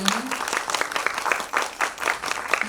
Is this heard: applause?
yes